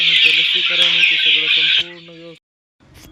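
Two-month-old free-range desi chickens, a flock of two to two hundred fifty in a shed, cluck and chirp steadily, a dense, close, high bright chorus running throughout before cutting off into a brief silence.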